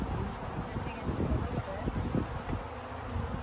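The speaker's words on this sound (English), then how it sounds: "Driving the bees out of the way." Honey bees buzz close by in a continuous low drone, driven off with a vaporizer, with rustling and handling noises mixed in.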